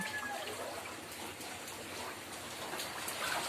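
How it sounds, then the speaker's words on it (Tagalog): Steady, nonstop rain pours during a flood at a house, a dense continuous hiss of water and dripping that holds even and fairly loud throughout with no talk. "Walang hinto ang ulan."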